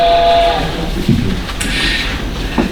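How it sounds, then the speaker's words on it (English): Train sound effect played during a live stage performance of a play, a loud rumbling rail passage with a horn-like tone early on and a steady rolling clatter throughout. "the train depot where Shorty Hawkins is getting ready to flag the 545 for Boston."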